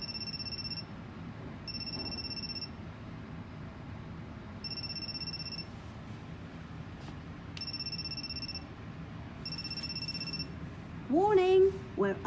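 Electronic telephone ringing repeats in short warbling bursts at a steady rhythm, clear over a low background hum, followed at the end by a brief chirpy voiced sound.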